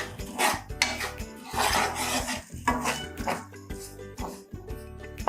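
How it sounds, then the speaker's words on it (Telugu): Semolina (Bombay rava) being roasted in a pan for rava kesari, with steady metallic scraping and stirring against the pan, continuous and fairly close, no voices. "బొంబాయి రవ్వ పోసుకుని అది పింక్ కలర్ వచ్చేదాకా, గోల్డెన్ బ్రౌన్ వచ్చేదాకా వేయించుకొని"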